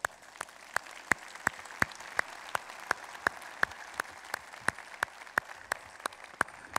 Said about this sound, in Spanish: démosle un aplauso a nuestras esposas